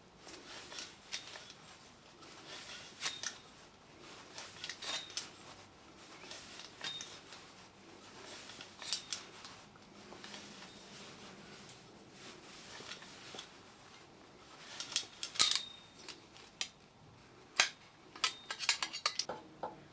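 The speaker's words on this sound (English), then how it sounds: "And now we're going to cut some more chrome tubing to" Chrome tubing being cut for perspex furniture, a faint, irregular series of scraping and clinking metallic sounds, heavier toward the end, with no talk.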